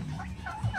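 Joro, the leader of a turkey flock, gives a short, close gobble lasting under a second.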